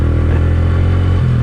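A motorcycle engine pulls hard in first gear up a steep mountain climb toward Babusar Top, giving a loud, close, steady drone that rises in pitch near the end.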